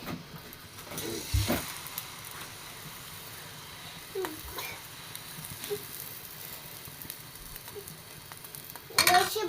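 Wheat dosa batter sizzles on an oiled griddle, a soft continuous frying hiss with a few light clinks of utensils against the pan.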